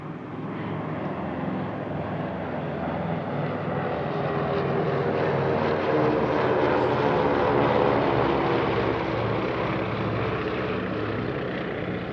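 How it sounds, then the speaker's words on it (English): A Douglas DC-3 and a trio of Beech 18 propeller planes fly past in formation at an airshow near Paris, their piston engines droning loud and steady, swelling gently toward the middle before holding. "they fly a Douglas DC-3 and a trio of Beech 18s"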